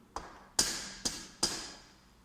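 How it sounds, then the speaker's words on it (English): Four sharp knocks on a door, irregularly spaced, each a crisp rap with a short ringing decay, fairly quiet and alone. "A knock sounded at the door."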